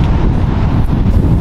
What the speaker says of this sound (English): it's gonna be insanely windy